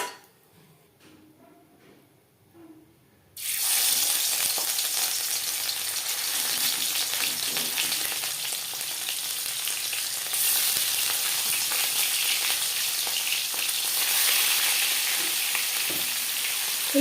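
Bhola fish fries in a kadai heated well over a high flame. After a few quiet seconds, a loud, steady hiss of sizzling oil bursts in and holds close and strong to the end.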